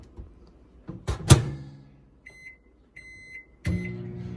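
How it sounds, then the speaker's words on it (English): A microwave oven in a flood-damaged home, heard close as a door thump and clunks, then a run of button beeps and a final door slam, with no talking. "I'm just gonna put this in the microwave for like maybe, what, 2 minutes"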